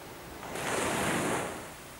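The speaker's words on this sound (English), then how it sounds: "Look at the strength of the ocean." A single ocean wave surges in, swelling to a broad rushing roar for about a second before easing back into a soft wash, with no voices over it.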